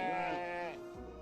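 A single sheep bleats once, a wavering nasal cry lasting about a second, close and clear.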